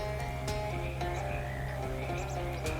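Frogs croak in the game Shadows Over Loathing, a run of short rhythmic croaks repeating over a sustained musical backdrop.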